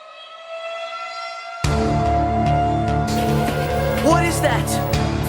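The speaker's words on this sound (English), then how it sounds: "the tornado siren sound. And it's just straight up terrifying." A tornado warning siren starts up during a severe storm: a steady, loud wailing tone rises and holds, with voices heard over it.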